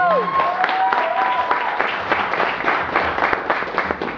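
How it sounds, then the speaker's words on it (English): A crowd at the Glitch Con 2011 closing ceremonies claps in warm, sustained applause, beginning just after a brief whistle-like tone and continuing evenly to the end. "So another round of applause for Tokyo and Tulsa."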